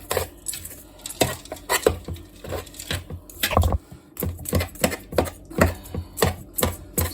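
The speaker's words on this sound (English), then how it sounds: "I'm going to stir this up." Rhythmic scraping and tapping of a spoon stirring a thick cornbread dressing mixture in a bowl, sharp irregular strokes repeating close up with brief pauses.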